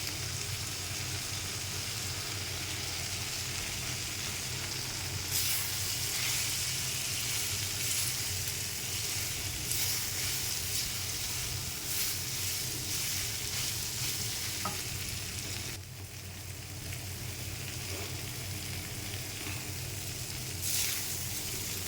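Soybean chunks and potatoes fry in a pan, a continuous dense sizzle and crackle with faint stirring sounds, holding steady and then dipping briefly before it resumes.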